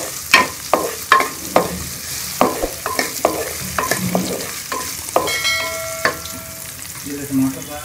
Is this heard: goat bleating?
no